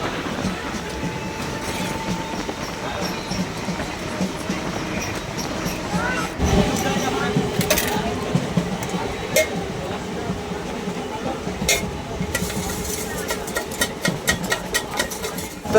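A train departing Sirajnagar station rumbles and clatters along the tracks at moderate volume, with wheel noise building and occasional voices nearby.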